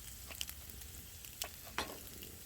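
Potatoes frying on a 36-inch flat top griddle outdoors, a soft, steady sizzle broken by a few brief scraping swishes of a spatula, faint and close.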